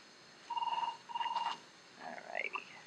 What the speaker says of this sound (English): I think they can hear it ringing.